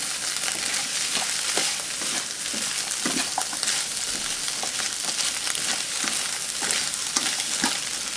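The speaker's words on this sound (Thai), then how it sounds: "ให้ใส่แตงกวาที่เราเตรียมไว้ค่ะ คลุกเคล้าให้เข้ากันนะคะ" Cucumber and egg being stir-fried together in a pan for a low-carb dish, giving a steady, close sizzle with repeated scraping and tossing of the utensil throughout, and no voices.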